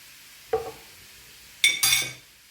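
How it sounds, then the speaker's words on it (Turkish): A spoon stirs tomato paste into toasted flour in a pot, giving a few short scraping clinks and a brief sizzle-and-scrape burst near the end, close and moderately loud with no talk. "Karıştırıyorum."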